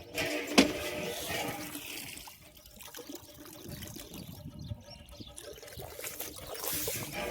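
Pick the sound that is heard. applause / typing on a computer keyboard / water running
water running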